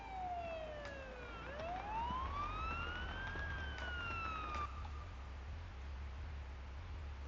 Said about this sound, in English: Turn the siren on to alert others.